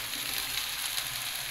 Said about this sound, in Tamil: இது கொஞ்சம் பொன்னிறமாக வர வரைக்கும் ஃப்ரை பண்ணிக்கோங்க.